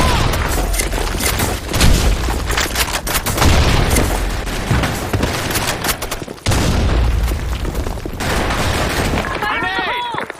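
Video game battle in a sandstorm map with grenade explosions and gunfire: repeated sharp gunshot bursts and heavy booms, loud and dense, with a short break near the middle before the firing resumes.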